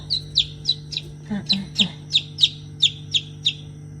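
Repeated high-pitched peeps from two-day-old chicks, about a dozen evenly spaced cheeps, close by over a low steady hum.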